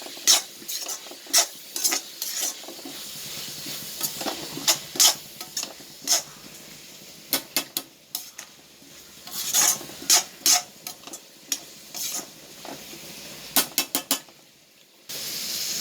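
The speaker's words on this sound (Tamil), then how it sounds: "வெங்காயம் நல்லா வதங்கணும்." Onions and ginger sauté in coconut oil for a prawn roast, with a soft continuous sizzle broken by frequent sharp spatula scrapes against the pan, some in quick clusters.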